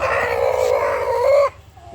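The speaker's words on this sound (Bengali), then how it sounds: "3 কেজি ওজনের একটা দেশি মোরগ কিনলাম।" A heavy native rooster, about three kilograms, crows loudly and close by in one long, strained call lasting about a second and a half, then falls quiet.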